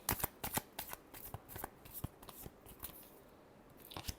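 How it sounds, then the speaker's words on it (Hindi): A deck of tarot cards is shuffled up close. Quick riffling bursts and sharp snaps come in an uneven rhythm, then ease off before a final flurry. No talking. "last shuffle"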